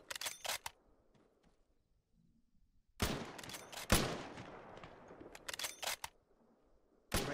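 Sharp gunshots from Arma 3 in a pre-WW2 Palestine setting, a cluster of loud cracks at the start, a heavy burst of fire with long rolling echoes midway, then several more close shots near the end.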